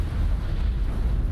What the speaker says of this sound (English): Here's a couple of those missiles.